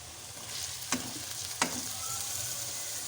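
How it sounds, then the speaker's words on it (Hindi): Chopped tomatoes go into onions and ginger-garlic paste frying in a pan, a steady close sizzle broken by two sharp stirring scrapes, with no talk. "साथ ही मैं इसमें डाल दूँगी टमाटर।"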